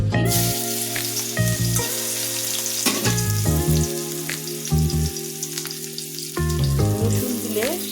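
Chopped garlic hits a pan of dried red chillies and fries with a loud, steady close sizzle and crackle that holds throughout, under background music.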